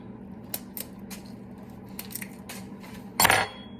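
A paring knife chops through garlic cloves on a cutting board, giving a series of short, crisp blade taps close up, ending in a louder scraping crunch.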